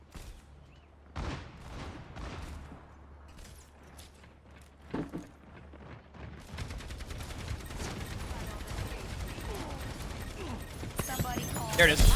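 Rapid automatic gunfire from Sombra in the Overwatch video game, building from scattered shots into a sustained, dense stream of fire that grows louder toward the end.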